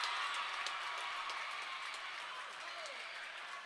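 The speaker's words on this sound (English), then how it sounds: "the crowd is roaring here at Ball Gym" Packed crowd at a volleyball match in Ball Gym roaring and applauding after an Owls point, a broad, sustained wall of cheering and clapping that stays fairly distant and even.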